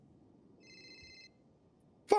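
A phone rings once with a short electronic trill, fairly faint over a quiet background, and a sudden loud burst cuts in right after it.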